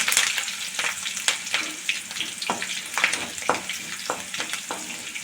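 Curry leaves and green chillies sauté in hot oil for Karaikudi-style mandi. The sizzle is close and crackly, with sharp pops and spoon scrapes at an irregular pace and no voices.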